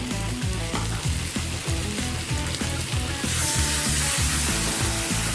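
Water poured onto spices frying in a pan brings a steady, loud sizzle and hiss, and the crackle grows brighter and denser partway through. A musical backing plays underneath.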